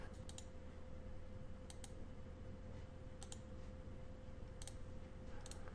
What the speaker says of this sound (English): To launch the start menu, just click on the start button and you're gonna have the start menu popping up